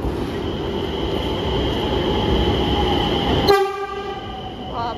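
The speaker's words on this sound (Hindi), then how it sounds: "तो खतरनाक हॉर्न।" A Nagpur Metro train runs past with a loud, steady rumble, then sounds a sharp, sustained horn blast near the end while the rumble drops away.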